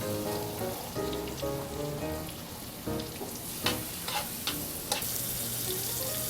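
Diced mushrooms sizzle in butter in a restaurant kitchen pan at Aqua Grille on Cape Cod, making a steady crackling hiss. A few sharp clinks and bright spatters break through near the end, over a faint tonal hum.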